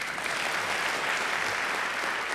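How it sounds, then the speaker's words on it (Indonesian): Sustained audience applause in a church sermon setting, a dense steady wash of many hands clapping together, loud and continuous throughout with no talk over it. "Ayo tepuk lagi."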